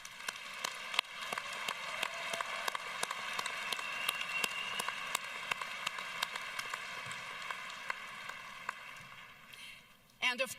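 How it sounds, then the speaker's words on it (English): Applause from the crowd at the Colorado College 2024 commencement ceremony comes as scattered, distant clapping: sharp individual claps spread over about ten seconds against a steady humming hall background. "let's thank your friends, your family, and your supporters with a round of applause"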